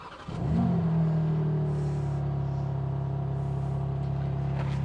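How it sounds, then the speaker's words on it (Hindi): A BMW M4 Competition's 3-litre engine fires up with a short starter crank, then settles into a deep, steady idling exhaust burble from the parked car, close and loud with no talking. "3 लीटर इंजन से कुछ ऐसा सा एग्जॉस्ट नोट निकल के आता है"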